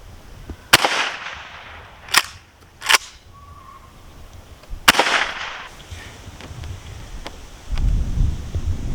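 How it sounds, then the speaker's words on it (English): Sharp, loud shotgun blasts fired at household items, four distinct reports spaced a second or two apart, each with a brief ringing tail, followed by rustling background noise. "I'm gonna get up close and personal with the shotgun."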